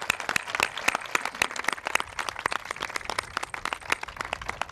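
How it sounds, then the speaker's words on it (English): Crowd applauding council members at a Let's Move! event for military kids and families, with sharp, closely packed individual claps forming a lively, uneven patter that stays loud and near for several seconds. "Let's give them a round of applause."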